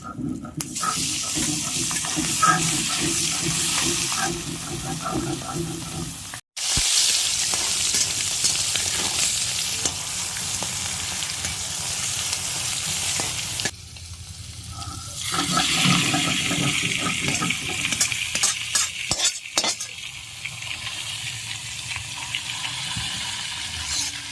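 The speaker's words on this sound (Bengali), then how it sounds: "এবার আমি মাছের ডিমটা ভেজে নেব" Roe from a Padma hilsa fish fries in hot oil with a loud, continuous close-up sizzle, broken by a couple of brief pauses and bursts of stirring.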